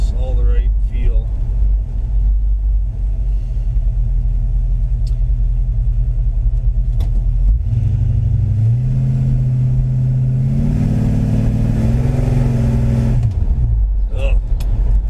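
Deep, loud rumble of a 1957 Chevy Bel Air engine heard from the cabin while driving, swelling and climbing in pitch as it accelerates, then easing off; someone speaks over it near the start and end.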